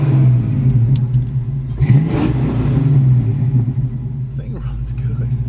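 A Mustang's engine rumbles low and steady with a few short revs, heard close while someone talks over it throughout.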